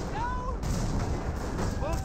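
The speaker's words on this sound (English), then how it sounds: "Rifle grenades rolling, some misses there." Rifle grenade explosions and gunfire boom in a Company of Heroes battle, several heavy blasts landing close together amid a rumbling wartime soundscape, with whistling incoming shells overhead.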